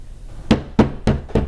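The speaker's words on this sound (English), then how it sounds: "the incredibly light knock was pretty startling" Four light knocks on a door, evenly spaced at close range, each a short dull rap with no voices between them.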